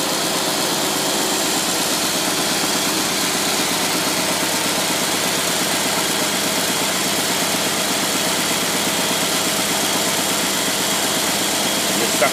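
Holley-carbureted engine idling steadily and loud with a constant rumble and hiss, fuel pump shut off so it is running the fuel out of the bowl, no stumble evident yet.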